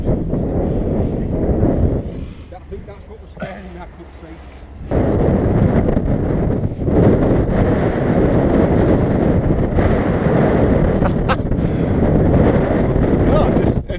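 Strong wind roars against the microphone during a boat ride in Britain, a loud broadband buffeting that eases briefly then returns heavier and steady, with voices faintly underneath.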